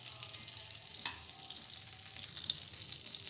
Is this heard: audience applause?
no